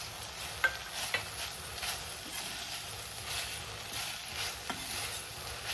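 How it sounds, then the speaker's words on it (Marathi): Okra and chili thecha stir-fry in a pan, a soft steady sizzle broken by scraping spatula strokes and a few sharp clinks, close and fairly quiet with no talking. "व्यवस्थित हे मिक्स करून आपण असं भाजी परतून घेणार आहोत"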